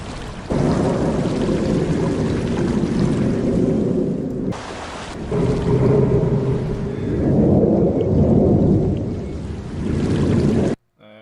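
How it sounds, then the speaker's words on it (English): Ambient forest sound effect in an Unreal Engine 5 environment, a loud continuous broadband wash like heavy rain or rushing air with low rumbling swells, briefly dipping midway and cutting off at the end. "Ambient forest. So let's see. You should be able to hear this."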